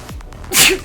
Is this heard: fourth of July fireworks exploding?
no